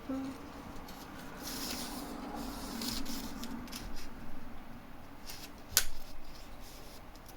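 Paper is cut for a vintage album with scissors or a blade, heard as soft close snipping and rustling at a low level, with one sharper cut near the end.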